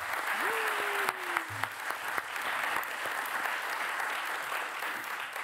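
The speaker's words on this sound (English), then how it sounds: "Yes, round of applause, please." A steady wash of applause from a crowd, sustained and fairly loud throughout, with a brief rising whistle-like tone near the start.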